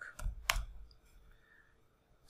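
Two sharp computer mouse clicks sound close by in quick succession while software is being set up to download Splunk Enterprise, followed by quiet room tone and a faint click at the end.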